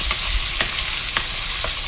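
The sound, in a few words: spices frying in a pot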